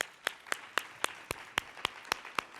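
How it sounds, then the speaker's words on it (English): A small audience at a women's conference gives a sparse round of applause. About ten distinct, evenly spaced claps sound close and fairly quiet, with no other noise between them. "Give yourselves a round of applause."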